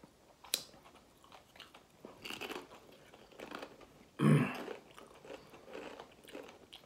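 Salsa verde tortilla chips are crunched close to the mic in a few separate bites, with one sharp loud crunch standing out among softer chewing sounds and no talking.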